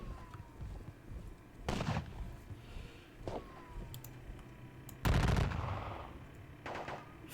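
Musket volleys crack in a Salamanca battle wargame, several sharp reports at uneven intervals, the last one heavier and rumbling, heard fairly close with no talk.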